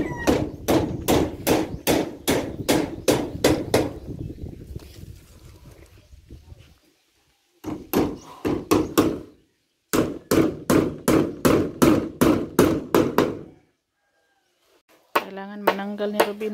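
Rapid runs of hammer blows drive nails into plywood for a pig pen, loud and close, in bursts of about a dozen strikes separated by pauses, with faint talk and a brief squeal-like sound near the end.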